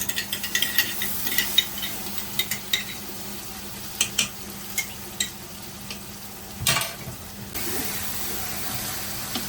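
Ginger and garlic frying in a pot for Adirai-style biryani, a steady low sizzle with scattered light clinks and scrapes of a stirring spoon, one louder scrape midway, no talking.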